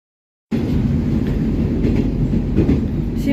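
Riding inside a metro train: a loud, continuous rumble of wheels on rails with rhythmic clickety-clack joints, beginning abruptly after a brief silence, no voices heard.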